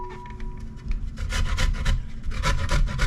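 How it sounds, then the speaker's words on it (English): Fresh cassava being grated on a metal shredder for a cassava pone, giving a steady run of close, loud rasping strokes that scrape repeatedly with no talk. "this part here is usually what I would use if I'm grating"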